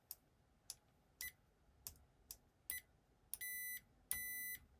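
A Uni-T UT61E digital multimeter in continuity mode beeping as its probes touch: several short clicky chirps, then two longer steady tones about half a second each, close and clear with no talk.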